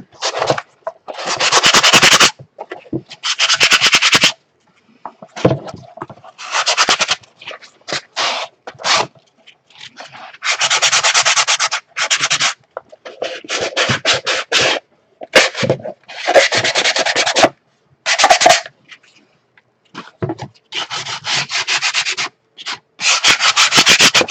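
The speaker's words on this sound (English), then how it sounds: "Okay, I'm going to sand this one." Wood being sanded by hand in repeated rasping bursts of a few seconds each, loud and close, separated by short silent gaps as the strokes stop and start.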